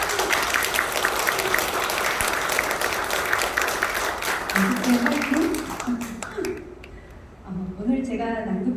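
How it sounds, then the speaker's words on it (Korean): An audience at a reading event claps steadily and warmly for several seconds, the applause thinning out toward the end as a speaking voice comes in over it. "은숙쌤에게 정말 힘이 되는 응원의 박수를 내가 보내주고 싶구나"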